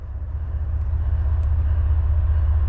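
Norfolk Southern freight train 62V, a rack train heading east, rolls past: a loud, steady low rumble with rhythmic clatter of wheels over rail joints, close and continuous, with no voices.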